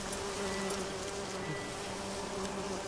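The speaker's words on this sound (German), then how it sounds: "Deswegen müssen die Bienen leider sterben." Bees buzzing around a hive in The Witcher 3, a steady, dense insect drone that holds evenly throughout with no voices.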